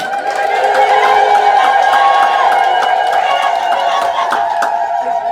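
A church congregation cheers and ululates in praise, a loud, continuous wash of overlapping voices with high trilling ululation running throughout.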